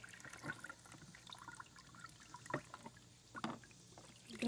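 Water sloshes and splashes in irregular bursts while soap is rinsed off lawn mower parts, close up, with brief gushes and trickles and no talk.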